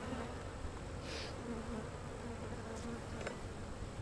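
Honeybees buzz in a dense, continuous drone at an open hive, close and steady with no voices.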